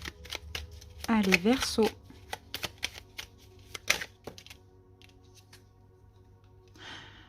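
Oracle cards shuffled by hand in rapid crisp riffles and flicks, close and clear, with a short stretch of talking among the card sounds before things go quiet.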